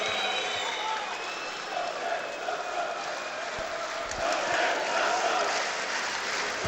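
Partizan basketball fans in an arena at a EuroLeague Final Four game cheering and chanting in greeting for Saša Đorđević, a steady, dense crowd roar that swells slightly near the end.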